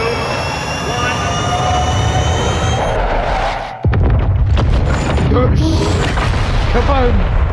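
A missile strike explosion in Modern Warfare 2 arrives as a single loud boom near the middle, cutting through a steady jet-engine roar and whine, with crackling, rumbling debris noise after it.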